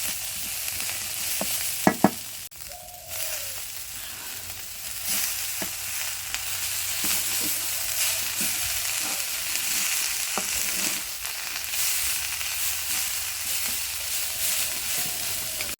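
Chepa shutki, a dried fish, fries in a pan over a clay stove with a steady, bright sizzle that runs throughout, broken by occasional scrapes and knocks of stirring and no talking.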